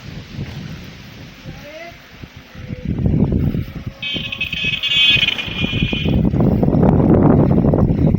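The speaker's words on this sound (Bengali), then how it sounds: "এখানে বাতাস অনেক" Strong wind buffeting the microphone beside a jute field in a sunny village, a loud steady rumbling roar that builds and grows denser toward the end.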